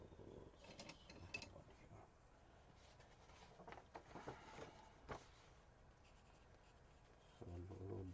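Quiet scratching and tapping of a pencil on paper, in short irregular strokes with brief pauses, in a hushed room.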